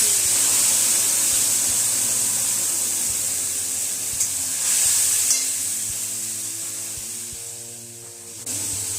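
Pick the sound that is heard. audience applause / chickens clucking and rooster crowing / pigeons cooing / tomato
tomato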